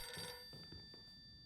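A telephone rings inside the Silent Hill f video game, a short bright electronic trill that stops early, followed by faint soft thuds and quiet ambience, heard alone without speech.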